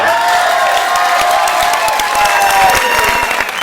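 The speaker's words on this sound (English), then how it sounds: "Give them a round of applause." A game show studio audience applauds loudly and continuously, dense clapping from a large crowd with some cheering mixed in.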